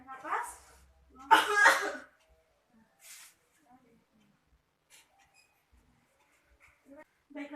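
A patient doing effective cough exercises gives two short, forceful coughs near the start, with a softer cough a moment later, then quiet breathing and faint speech.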